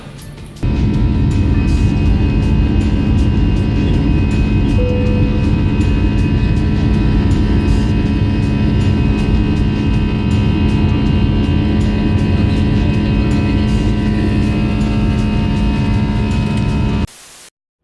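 Steady airplane cabin noise during a flight, a loud continuous broadband roar with a low engine hum that holds evenly throughout, with no one speaking.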